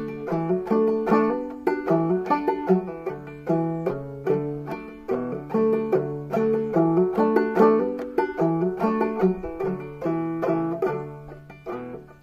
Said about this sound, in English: with the clawhammer this is what it sounds like.